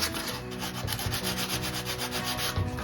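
Steady, continuous rubbing of sandpaper on a model ship's surface, a close and fairly even scratchy back-and-forth with no talking.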